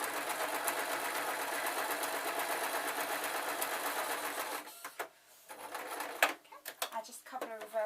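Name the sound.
sewing machine stitching fur slippers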